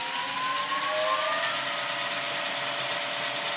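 Lathe spindle motor driven by a VFD at about 56 Hz, near 1000 rpm, a steady high electric whine with a faint mechanical hum, running continuously and alone at close range.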